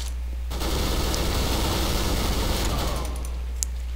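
Automatic gunfire in the Counter-Strike: Global Offensive beta, a dense, loud sustained burst of rapid shots lasting a few seconds before dropping off, with a brief sharp sound near the end.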